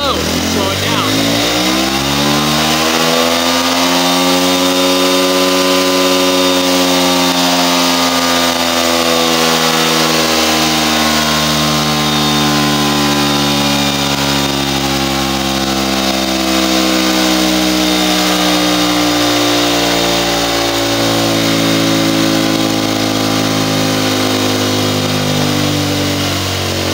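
A small engine runs on a hypermileage dynamometer. Its loud harmonic drone rises as the throttle opens, then falls and labours slowly as the load increases, continuous and close for the whole stretch.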